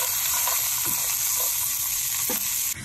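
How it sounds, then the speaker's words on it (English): Frozen vegetables and spinach fry in a pan with a loud continuous sizzle, broken by a few brief bursts of stirring, close and alone with no talking. "Okay, so you can hear that sizzling."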